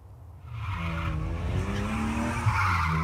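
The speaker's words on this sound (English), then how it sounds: "Amid a screaming engine, a car disappears into its own tyre smoke." At a car cruise in Peterborough, a car doing donuts gives a rising, screaming engine and sustained tyre squeal, loud and close, building steadily over a few seconds.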